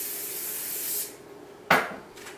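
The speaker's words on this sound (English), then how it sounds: "I'll grab a little bit of vegetable spray, and I just want to spray the inside of the container." Vegetable oil cooking spray hisses into a large Rubbermaid plastic container in a steady, close burst lasting about a second, followed by a short, sharp rustle or knock.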